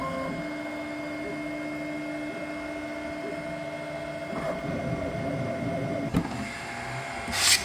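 A 3D printer prints a mount with a continuous mechanical whine and steady motor tones, close and even, with a few faint clicks and a brief rattle near the end.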